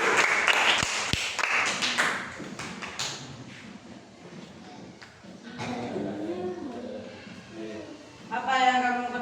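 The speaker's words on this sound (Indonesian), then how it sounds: "tepuk tangan untuk kelompok tiga" Classroom applause for a student group at a school health-behaviour lesson: a burst of brisk clapping for a couple of seconds that quickly dies away, followed by people talking.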